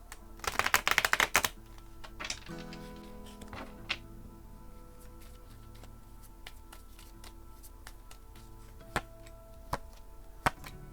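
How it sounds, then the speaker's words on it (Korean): Tarot cards shuffled by hand, giving a short, dense riffle of rapid papery clicks near the start, followed by sparse taps and card handling in a quiet room with no talk. "이분과 어떤 연애를 하게 될지 타로 카드를 추가적으로 셔플해서 뽑아보도록 할게요"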